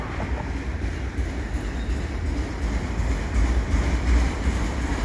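A CN mixed freight train carrying military tanks rolls eastbound past Dorval, a steady, heavy low rumble of cars passing close by with no talk.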